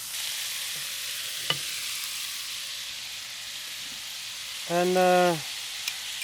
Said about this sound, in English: Then we're gonna put 2 tablespoons of cooking sherry